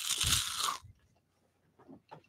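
Crunchy snacks chewed close to the mic, a loud burst of crisp crunching followed by a pause and a few softer bites.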